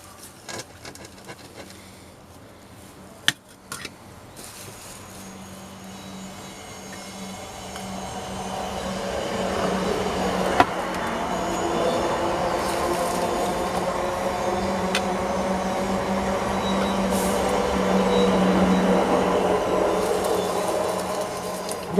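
A train rumbles past at a distance, its steady mechanical roar building gradually and holding over the clip, with a faint squeal of wheels.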